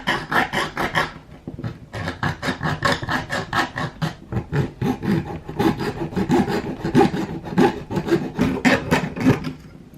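Coping saw rasping back and forth through a plastic Xbox One controller charging dock, steady rhythmic strokes close up and loud, continuous for the whole stretch with brief pauses.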